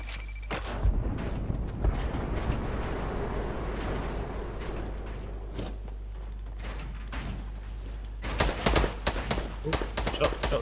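Gunfire in the video game Fortnite during a squads match, with several sharp shots and bursts cutting through continuous game noise and background sound over the full length.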